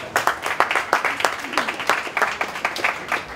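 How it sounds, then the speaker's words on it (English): An audience at a 2019 TV and film industry talk event gives a round of applause for a speaker, a close, lively patter of many hands with quick sharp claps throughout. "Another round of applause for Tony."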